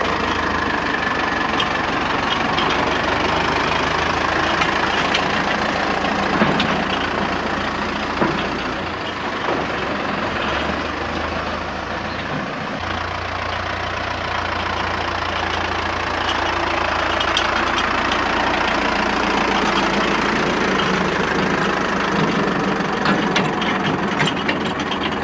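Historic Lanz sieve-chain harvester, a barn find, runs steadily and loudly with a continuous mechanical clatter and ratcheting chain noise over a low engine throb, close by and without pause as it drives out.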